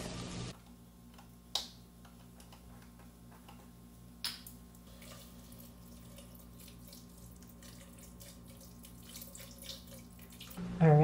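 Vegetable broth poured into a pot for a chickpea soup, a steady soft liquid stream running for several seconds with a couple of small clinks, close and fairly quiet.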